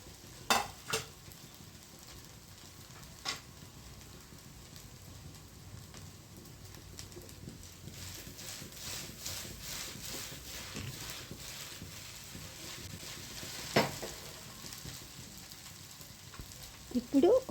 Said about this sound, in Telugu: ఇప్పుడు ఒక్కసారి స్పూన్తో ఎగ్ ముక్కలన్నీ నూడిల్స్లో కలిసేలాగా స్పూన్తో కలిపేసుకుందాం